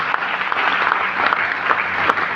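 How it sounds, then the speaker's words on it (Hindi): Loud applause from a seated audience at a gathering honouring a professor and a teacher, a steady burst of many hands clapping throughout, close and even, with no talk over it. "सर एक बार जोरदार ताली होना चाहिए"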